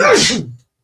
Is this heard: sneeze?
yes